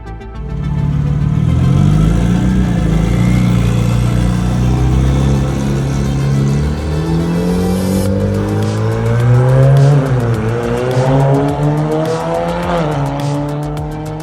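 A Honda S2000 race car with a turbocharged K24 engine and DCT gearbox revs hard and loud, its engine note rising and falling through repeated gear changes, with tire squeal and skidding mixed in and no talking.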